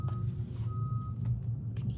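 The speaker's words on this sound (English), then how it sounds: "Can you hear that beeping?" Reversing beeps from a truck outside come as faint, short electronic tones over a low rumble, with a voice talking quietly in the background.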